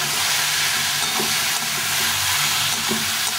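Pumpkin pieces sizzle and fry steadily while being sautéed with spices in a pan, a continuous loud hiss with faint stirring scrapes throughout and no voices.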